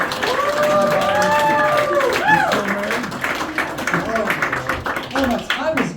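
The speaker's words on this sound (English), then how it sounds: "A round of applause for all." An audience at a magic show in Nashville breaks into applause with cheering and voices, the clapping sustained and fairly loud, thinning slightly toward the end amid crowd chatter.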